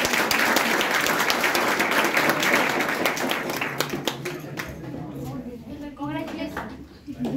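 Loud applause from a crowd at a student award ceremony in India fills the first few seconds, then thins out and fades as a voice begins speaking.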